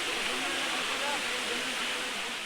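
Broadband rushing water from a waterfall at Albion and Sherman Falls, a steady, loud, even roar filling the whole stretch with no pauses.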